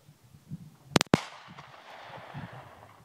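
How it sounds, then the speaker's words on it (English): A single 9mm pistol shot fired in the open: a sharp, loud crack with a quick second report, then a fading outdoor echo over faint background noise. "I'm going to fire one shot out in the open"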